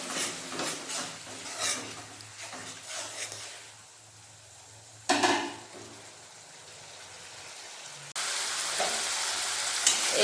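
Spice masala for chickpea and potato ghugni sautéed with splashes of water in a pan, soft sizzling with spatula scrapes, a sudden louder hiss as liquid hits, then a steady bubbling hiss.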